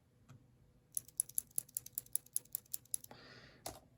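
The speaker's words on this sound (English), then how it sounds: "And just for reference, here is a Cherry MX Blue." Cherry MX Blue click switches tapped one after another, around a dozen bright, clicky presses in a steady rhythm, close and alone, followed by a brief rustle and one last click.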